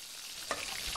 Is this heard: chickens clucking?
no